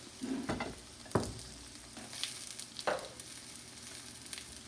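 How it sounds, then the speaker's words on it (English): Cornbread submerged in hot oil gives a faint, steady sizzle and crackle, broken by a few sharp clicks and pops from a utensil moving in the pan. "So you want your cornbread pretty much submerged in your oil."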